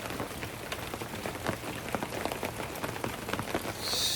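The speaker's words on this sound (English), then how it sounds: "you'll be hearing the pitter-patter of rain on the camper." Steady rain pattering on a camper roof during a rainstorm while camping on Jekyll Island, a dense, even patter of drops close overhead with no voices.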